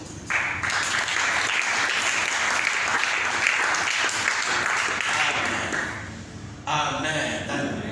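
A church congregation applauds loudly and steadily for several seconds, with a brief dip before a fresh burst near the end, and voices mixed into the clapping.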